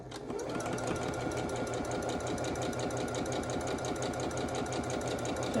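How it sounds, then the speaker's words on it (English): A sewing machine stitches a quarter-inch seam joining two fabric pieces, batiks among them, with a fast steady mechanical whir and rhythmic needle clatter running continuously and close up. "So I'm just going to put them together and sew 1/4 of an inch"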